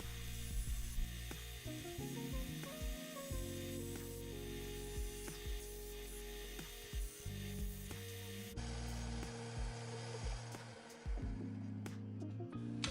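A 250W Sealey SM750 combination belt and disc sander runs with its slim belt grinding against a piece of wood, a continuous loud motor whine broken by rubbing, rasping contact bursts, close up with no talking.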